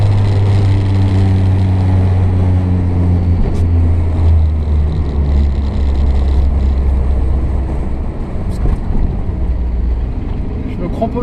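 A Renault car engine hums steadily and close while driving round a roundabout, a low droning tone that shifts pitch partway through as the car slows and pulls away.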